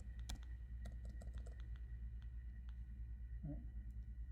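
Someone types a value on a computer keyboard in a quiet room: soft, scattered key clicks in short bursts over a low, steady hum.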